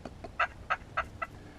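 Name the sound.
turkey call imitating contented hen purr and putt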